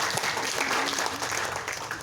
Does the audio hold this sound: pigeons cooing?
no